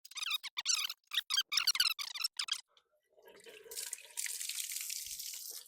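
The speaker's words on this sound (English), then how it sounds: "There's going to be quite a bit of water that comes out of here" Water gushes out of a Forest River rPod camper's water heater drain plug opening, a steady hissing splash that starts after a run of squeaky wrenching sounds and continues on its own.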